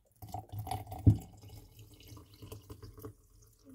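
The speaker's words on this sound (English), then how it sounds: "And now you just basically add your water." Water poured into a container to make orange water, a short splashing gush with a sharp burst near the start, then trickling and dripping that fades out.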